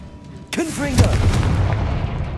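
The Confringo fire blast spell explodes in Hogwarts Legacy: a sharp, booming burst strikes after a short quiet lead-in, with a whooshing tonal sweep and a rumbling tail that fades out.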